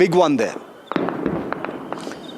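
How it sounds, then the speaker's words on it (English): A brief voice at the start gives way to several sharp distant cracks of India-Pakistan ground fire, spaced irregularly and echoing faintly over a quiet background. "You can hear the gunfire. This is all"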